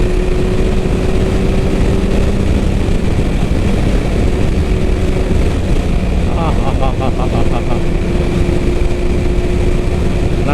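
A 2000 Yamaha R1 1000cc superbike engine drones steadily and loudly while riding at speed, mixed with rushing wind, as someone talks over the continuous roar.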